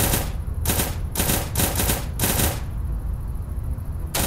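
Rapid bursts of gunfire in the Resident Evil video game, several loud clattering volleys in quick succession followed by a steady hissing tone once the shots stop.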